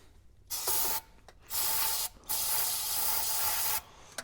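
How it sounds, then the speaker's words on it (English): Aerosol spray hisses into the throttle of a 1965 Chevy engine in three bursts, a short one followed by two longer ones, each sharp and close with quiet gaps between them. "I need to be able to give that throttle and spray that in"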